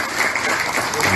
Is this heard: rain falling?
no